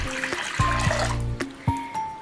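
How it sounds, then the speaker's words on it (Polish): Lukewarm water pours from a vessel into a bowl for bread dough, a short gurgling trickle heard close, with tonal music playing underneath. "Do miski wlewam 400 ml letniej wody."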